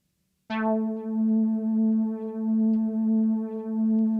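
A steady sustained 440 Hz tone, the note A, starts abruptly after a short silence and holds evenly, with a slight pulsing wobble, no voices.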